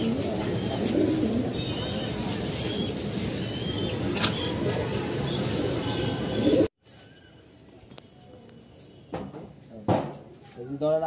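Domestic pigeons coo in a winter coop; steady wind-like noise dominates the first part, then soft coos sound nearer and clearer in a quieter stretch.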